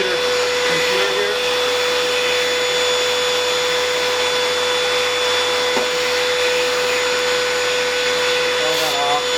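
A vacuum cleaner sucking dust out of a computer runs as a loud, steady, close whine with a constant high tone throughout, the nozzle occasionally shifting with faint rattles.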